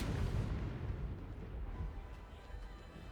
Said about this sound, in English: We do see a firecracker play there